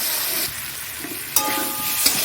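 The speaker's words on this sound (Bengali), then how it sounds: "দেখো মশলাটা এবার ভালো করে কষাচ্ছি" Spices for a Bengali egg curry sauté in a hot pan with a steady, close sizzle and hiss, stirred and scraped now and then, with a couple of sharper clatters.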